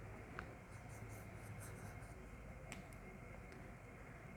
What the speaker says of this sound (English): I'm just going to write this down